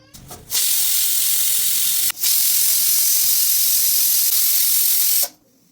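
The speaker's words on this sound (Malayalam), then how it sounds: "കുക്കറിലേക്ക് വെച്ച ശേഷം നമുക്കിതൊരു മൂന്ന് വിസിലടുപ്പിച്ച് വേവിച്ചെടുക്കാം" A pressure cooker cooking pork vents steam in a loud, forceful hiss, two long blasts separated by a brief break, then cuts off abruptly.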